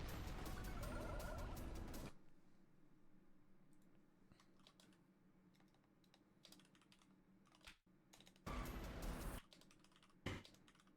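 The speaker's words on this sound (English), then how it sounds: "Typing out his messages." Rapid typing on a computer keyboard in bursts of quick clicky keystrokes, loud at the start and again near the end, with quieter scattered clicks in between.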